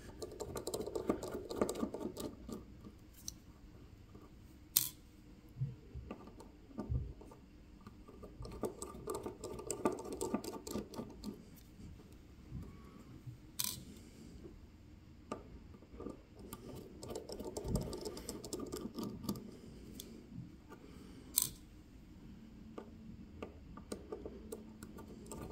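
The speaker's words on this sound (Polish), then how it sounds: "ja przytrzymuję dekielek i odkręcam wkręty naprzemiennie" Small screws are worked loose from the caseback of a Casio G-Shock GBD-200 watch, giving faint, close, scattered ticks and clicks of a tiny driver, with quiet gaps between them.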